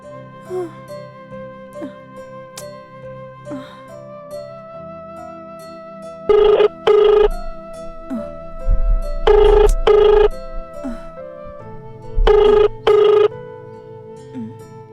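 A telephone rings in three repeated double bursts, loud and close, with quiet room tone between the rings.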